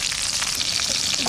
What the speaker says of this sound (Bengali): লঙ্কা ভেজে নেব, বোট সমেত দিয়ে দেবো।